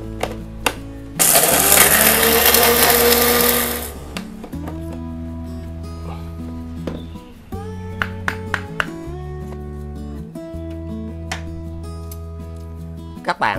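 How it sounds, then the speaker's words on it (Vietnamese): Blender grinding dried eggshells into powder: a loud, harsh whirring burst of about three seconds, then it cuts off and music continues. "Sau khi những vỏ trứng đã được khô hoàn toàn, các bạn hãy xay nhuyễn ra."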